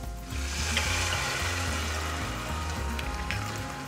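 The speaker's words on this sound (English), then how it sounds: "So, we just need to add about a cup of white wine." White wine poured into a pot of softened, translucent onions, hissing and sizzling steadily like light rain, with a soft bubbling undertone throughout.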